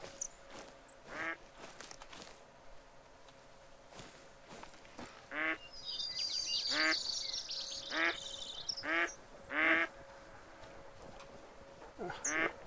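Repeated nasal duck quacks in the hunting video game theHunter: Call of the Wild, at moderate distance, several in a loose series, over a faint outdoor background with a brief high chirping patch.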